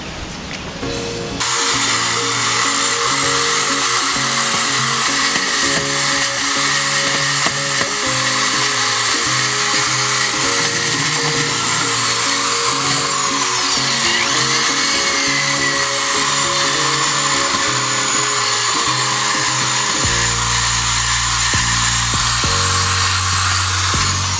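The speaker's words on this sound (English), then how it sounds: "we're going to come back with our detail brushes as well as the power brush and the Scrub Ninja and take care of this" A power brush whirs continuously while scrubbing a very dirty car interior, its steady motor drone loud and close, shifting pitch near the end as pressure changes.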